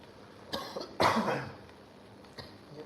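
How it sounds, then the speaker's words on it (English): A person coughs close by in a couple of rough, breathy bursts, with a throat-clearing sound and a softer cough trailing after, in a quiet indoor room at breakfast. "You're coughing too, huh?"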